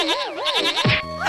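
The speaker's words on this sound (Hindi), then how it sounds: "अरे बकरी एक बार हंस देना" A cartoon goat bleats in a wavering, warbling cry that slides up and down, followed by a brief squawk and a steadier tonal tail, loud and close with no talk over it.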